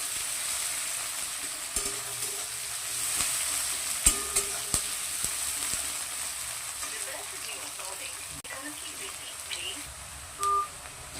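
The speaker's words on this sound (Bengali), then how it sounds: "পেঁয়াজ কুচি, পেঁয়াজগুলোকে আমি লাল করে ভেজে নিব" Chopped onions fry in a pan with a continuous moderate sizzle, broken by scattered clicks of stirring and a short electronic beep near the end.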